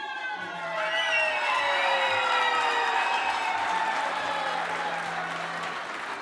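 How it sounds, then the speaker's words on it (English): Audience applause at a university vice-chancellor installation ceremony, a loud sustained wash of clapping with a sustained tone layered over it throughout. "Round of applause for Mr. Risenga Maluleke"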